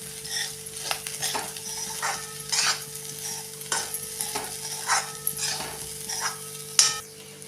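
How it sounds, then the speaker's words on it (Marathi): Potato vegetable dish with crushed roasted peanuts and a little sugar sautéed in a pan, a close sizzle broken by repeated scraping strokes of a spatula and a few metallic clinks, with no voices. "आणि ही भाजी आता चांगली आपण परतून घेऊया."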